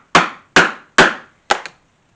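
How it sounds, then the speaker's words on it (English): Awl punched through two layers of holster leather, four sharp knocks in a steady rhythm with the last one doubled, close and loud with no talk. "I'm going to take an awl and I'm going to go all the way through both pieces"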